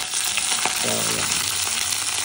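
Ginger and Thai basil stirred in a hot pan give a steady, close sizzle and frying crackle. Soft scraping and turning sounds run through it without a break.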